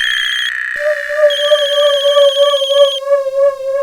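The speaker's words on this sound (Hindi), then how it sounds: "अरे कब से फोन बज रहा है, उठाती क्यों नहीं?" Mobile phone ringtone ringing indoors, a bright electronic melody of repeating tones that changes pitch as it goes, loud and clear with no voices.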